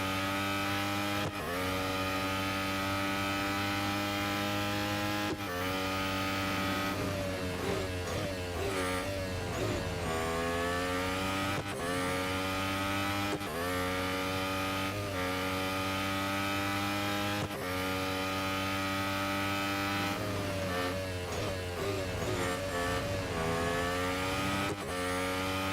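Car engines in the Real Racing 3 mobile racing game roar and rev continuously, loud and close, with repeated rising pitch sweeps through gear changes over a steady droning backdrop.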